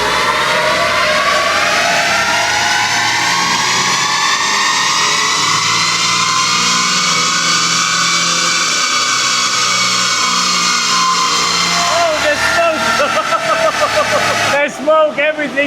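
A tuned shitbox car on a dyno revs loud and steady at high RPM, its engine note climbing and holding for about twelve seconds before easing off with rattles and a sharp knock near the end.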